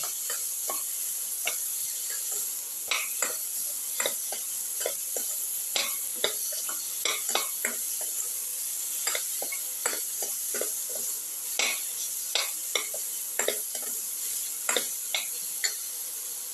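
Salt being mixed into a cucumber and potato dish in a pan, with quick, irregular utensil scrapes and taps over a constant bright sizzling hiss, continuing without pause and with no voices.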